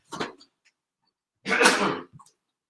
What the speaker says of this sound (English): He says as he coughs into his sleeve